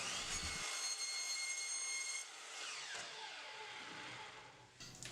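A power saw cuts wooden boards for a potting bench build, whining steadily and close for several seconds, then dropping in pitch and winding down before a brief restart at the end.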